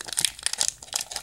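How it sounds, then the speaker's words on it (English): Plastic wrappers on sports trading card packs crinkle and tear as they are opened, a quick run of sharp, close, uneven rustling bursts lasting about a second. "got some packs. I'm going to crack them real quick"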